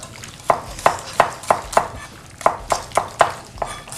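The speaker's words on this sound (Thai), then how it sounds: "ซอยไป ซอยไป" Steady knife chops on a cutting board while slicing pork for a Thai grilled pork dish with roasted rice powder, about a dozen crisp, close strokes in an even rhythm with a faint low hum beneath.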